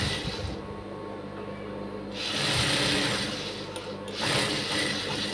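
A sewing machine runs steadily while stitching a blouse lining, its whirring motor and needle chatter continuous and close, rising slightly louder midway with no talking.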